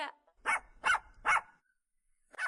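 A dog gives three clear barks in a quick, evenly spaced run, with a fourth starting at the end, close and fairly loud against a quiet background. No talk is heard.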